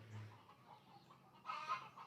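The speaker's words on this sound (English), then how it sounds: "Can you guys hear the chickens out there?" Hens cluck softly in a coop after laying eggs, a few scattered calls followed by a louder burst of clucking near the end, faint and somewhat distant.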